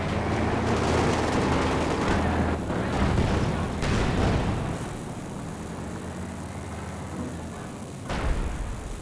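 A howitzer artillery barrage in the Company of Heroes 2 strategy game, with dense rumbling blasts and gunfire rolling loudly, then easing into a lower din with one more late impact.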